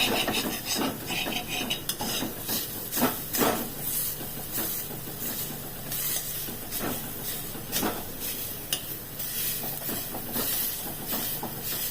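Young jackfruit fries in hot oil, giving a steady close rasping sizzle with rhythmic scraping strokes from stirring, fairly quiet and unbroken, with no voices.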